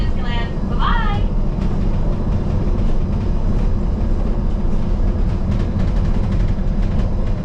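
Disneyland monorail train riding its elevated track, a loud steady rumble and rolling drone throughout with a brief announcement-like voice near the start.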